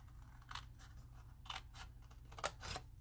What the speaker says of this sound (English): Going to use our scissors, and all we need to do is cut up on the score line